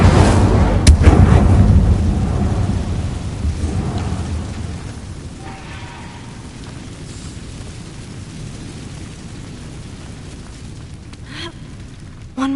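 The Incendio fire spell cast in the video game Hogwarts Legacy, bursting out as a loud, deep roaring whoosh with crackling that then dies away into a long, low rumbling tail.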